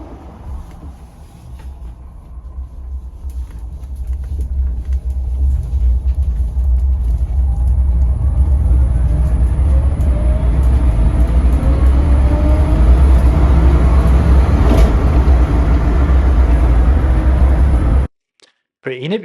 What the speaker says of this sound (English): I thought it would be fun to show you how quickly it accelerates from 0 to 40 mile an hour